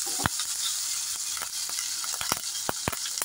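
Spices tempering in hot mustard oil for a mushroom curry crackle and sizzle continuously, with sharp popping bursts scattered throughout, close and fairly loud with no talking.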